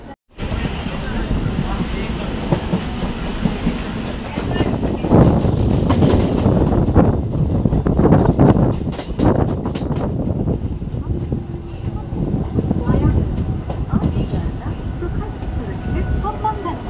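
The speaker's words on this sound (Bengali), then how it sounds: "মাঝখানে সিঙ্গেল লাইন ট্রেন চলছে" Rumble and wheel noise from a train on a single track through farmland on the Tarakeswar to Arambagh route near Mayapur station, steady and fairly loud throughout, with occasional gusts and someone talking over it.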